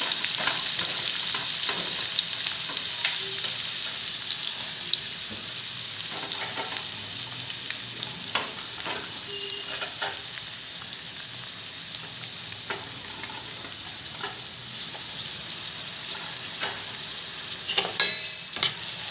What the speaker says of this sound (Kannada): ಯಾವ ಥರ ಎಣ್ಣೆಯಲ್ಲಿ ಕುದೀತಾ ಇದೆ ಬೆಳ್ಳುಳ್ಳಿ